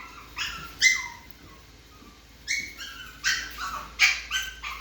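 A chihuahua puppy yips and barks in short bursts, several sharp high barks mixed with whimpers, fairly close, with a quiet pause between the first bark and a later cluster.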